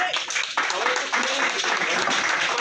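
Audience applause fills the hall at Gargi Memorial Institute of Technology's (GMIT) ten-year celebration: steady, dense clapping from a crowd throughout, with voices mixed in.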